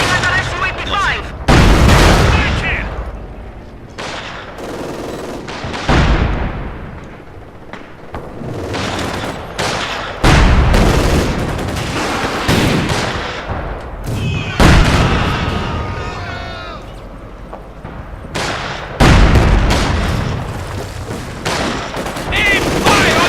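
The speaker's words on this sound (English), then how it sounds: "They're shooting at our Su-85." Gunfire and artillery aimed at an Su-85 in Company of Heroes 2, heard as loud volleys of shots and booming impacts in repeated waves over about twenty seconds, with voices talking at times.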